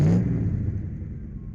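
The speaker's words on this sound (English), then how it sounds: "we're going to take this very late E220 Cabrio for a drive" A late 1995 Mercedes-Benz W124 E220 Cabriolet with its engine running, a short burst of low rumbling drive noise that fades quickly into a steady, softer hum.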